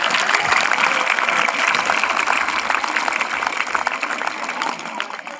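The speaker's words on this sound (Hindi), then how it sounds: "अब वारिस साहब के लिए तालियां।" Audience applause after a call to clap for a guest at a school event, a steady dense patter of many hands filling the whole stretch and easing slightly at the end, with no talk over it.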